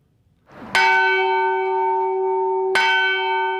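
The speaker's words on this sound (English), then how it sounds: "Here at St. George's Cathedral in Jerusalem, Mordecai Vanunu enjoys ringing the bells." Two loud strikes of a church bell at St. George's Cathedral in Jerusalem, each leaving a long, resonant, slowly fading ring that fills the gaps between them.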